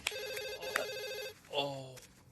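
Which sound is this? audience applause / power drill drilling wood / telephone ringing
telephone ringing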